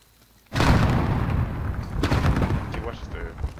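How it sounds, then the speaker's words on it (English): A frag grenade goes off in a multiplayer shooter, a sudden loud close boom after a short quiet lead-in, followed by a rolling rumble and scattered gunfire-like cracks, with players' voices mixed in. "Throwing frag."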